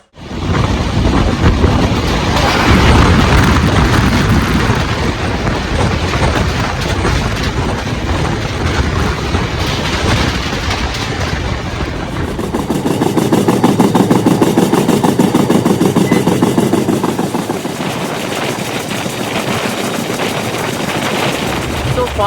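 Inside a sleeper coach of the Rajendranagar–Ara special train, whose rake is shared with the Capital Express, a loud, continuous rumble and rattle of the running train fills the space, shifting in tone partway through.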